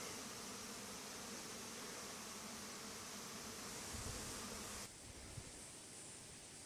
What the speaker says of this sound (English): Fair few bees out flying around.